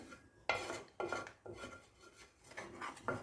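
A spoon scrapes and knocks in a pan of thick tamarind candy mixture over low heat, giving a series of soft rhythmic strokes about every half second, quiet and close with no talk.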